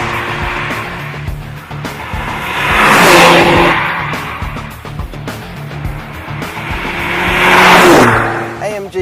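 A Mercedes-Benz A45 or CLA45 AMG with a small 2-litre engine and sports exhaust accelerating hard on an open road, loud rising engine roar in two surges with gear-change crackles and pops, close and dominant.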